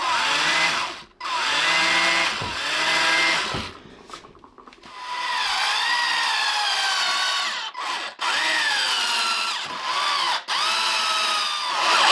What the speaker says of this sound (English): I'll probably just drill some tiny little pilot holes just to break through the melamine face